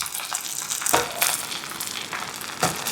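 A whole duck roasts in a covered pan, giving a steady close sizzle and crackle with a few louder spitting bursts, no talking.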